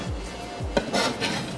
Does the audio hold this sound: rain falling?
no